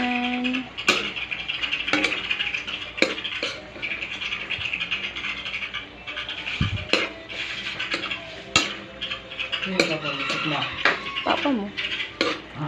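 Chicken adobo, Bicol style, being stirred in a pot: a metal spoon scrapes and clinks against the pot in irregular strokes over a steady cooking hiss, while a voice talks now and then.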